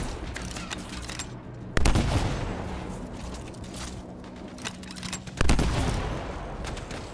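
Gunfire from a weapon in the video game Anthem: two heavy, booming shots land several seconds apart, each followed by a rumbling decay, over steady background noise from the game.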